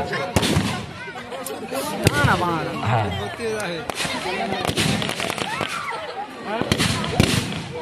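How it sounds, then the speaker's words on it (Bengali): Rapid bursts of gunfire and booming explosions in a comic India–Pakistan war scene, sharp cracks and thuds coming in irregular clusters, with a voice talking over the loud battle noise. "চলছে ফায়ারিং, ফায়ার চলছে।"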